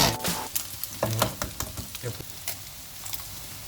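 Chicken drumsticks simmering down in cola in a pan, a busy bubbling sizzle with scattered sharp clicks and stirring knocks, fairly close and continuous.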